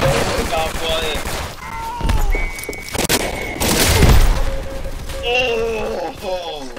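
Gunfire and sniper shots in the Roblox game Entrenched, heard as rapid bursts and booming shots under continuous excited talk from a player, loud and close throughout.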